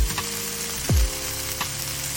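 Dense, continuous sizzle of meat and carrots stir-frying in a hot pan for curry udon, close and loud, with brief scraping stirs breaking through the frying hiss.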